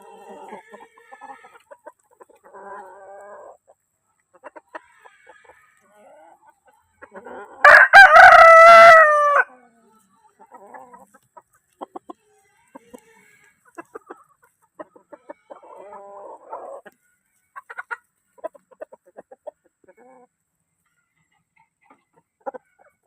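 A single loud rooster crow rings out near the middle, surrounded by scattered soft clucks and quiet chicken noises from a flock including Brahma and Rhode Island Red chickens.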